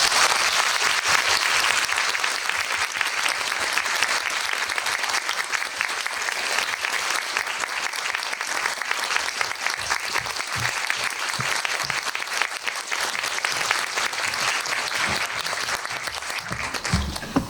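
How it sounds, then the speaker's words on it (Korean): Sustained, dense audience applause welcoming a film director and actor at a screening Q&A, loud and even for the whole stretch with a few nearer claps toward the end, no talking over it. "그 어느 때보다 따뜻하게 큰 박수로 두 분을 환대해 주시기 바랍니다"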